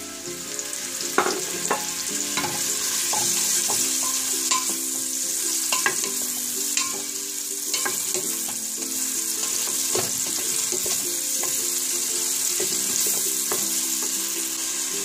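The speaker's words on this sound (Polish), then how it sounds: "Chwilę smażymy cebulę." Diced onions fry in oil in a pan for a Turkish lentil soup, giving a steady close sizzle broken by repeated scraping and clacking stir strokes. No one speaks.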